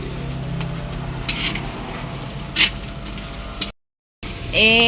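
Vegetables sauté in a pan with a light, continuous sizzle and occasional clinks of a utensil, close and moderate in level, broken by a brief dropout near the end.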